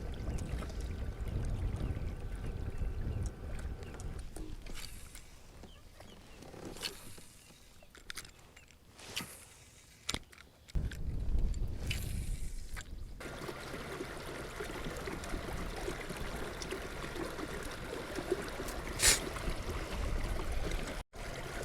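A small motor drives a kayak across muddy Lake Okeechobee: a low, steady engine drone with water swishing, cutting out and returning mid-way, then continuing with splashing and wind noise.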